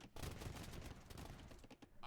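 Volleys of hand cannon fire from Bohemian units in Age of Empires II, a dense stream of overlapping gunshot cracks and battle noise that runs steadily throughout, loud and busy.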